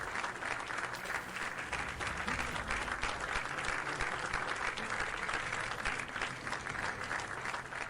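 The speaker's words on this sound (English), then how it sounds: "having a couple of applause on the same level is better than, like, slowly incrementing up" Dense, steady applause from a crowd, many hands clapping at an even level throughout with no build-up or fade.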